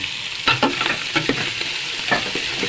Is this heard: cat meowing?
no